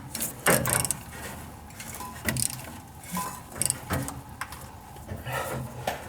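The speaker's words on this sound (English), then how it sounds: "now I'm able to move the crank pulley. It's rotating about maybe an inch" A seized crank pulley on a 1978 Chevy truck engine being forced around, heard as scattered metallic clicks, clanks and ratcheting knocks in uneven bursts, close and fairly loud with no talk.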